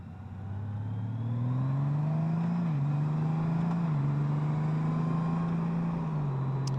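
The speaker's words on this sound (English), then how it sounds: "this DCT is upshifting far quicker than any human's going to do it" A 2021 Honda Gold Wing with a DCT gearbox pulls away and accelerates, its engine drone climbing in pitch and then dropping briefly at two quick automatic upshifts, steady and fairly close with no talking.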